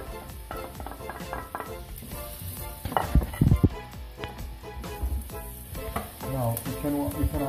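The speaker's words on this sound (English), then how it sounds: "Onion and chilies to fry here in a bit of pepper." Onion and chilies fry in a pan for a Brazilian feijoada base, with steady sizzling, clattering stirs and pan knocks up close throughout, and no talk.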